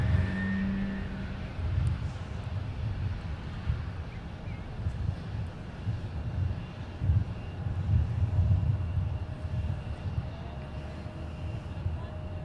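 An Envoy Embraer regional jet at Minneapolis–St. Paul airport, a steady low engine rumble and roar rising and falling in waves, heard from outdoors with wind buffeting and people talking nearby.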